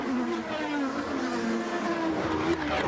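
Formula 3000 race cars on the last lap of a race in Belgium howl at a steady high pitch, heard at a moderate distance with a faint broad crowd or track wash behind.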